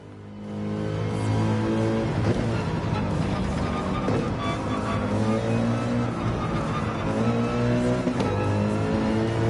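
A racing car engine in Gran Turismo 7 at the Red Bull Ring revs up loud and steady after a short quiet start, holding a sustained droning roar as it accelerates out of a corner.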